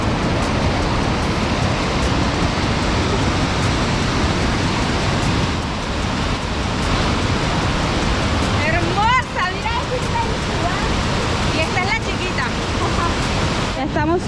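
Constant rushing roar of a waterfall beside the Carretera Austral in Chile, loud and close, with people talking briefly over the falling water near the end.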